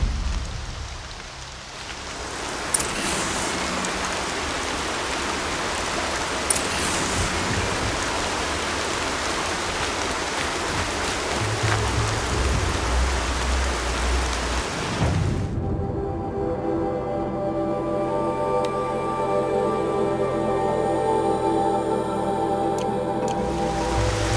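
Steady rain pours in Horizon Zero Dawn, a continuous broadband hiss of falling water with a few brief louder spatters. Partway through, a low ambient drone and tonal game music come in beneath it.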